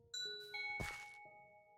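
A Minecraft doorbell chimes as a series of clear, bright ding tones, a few quick notes ringing out and sustaining alone, close and fairly quiet.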